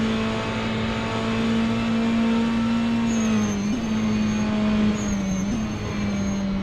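A Mercedes GT3 race car laps Mosport in the Caribbean GT3 Championship, its engine holding a loud, steady drone with slight pitch dips as it shifts and runs through corners, heard alone without talk.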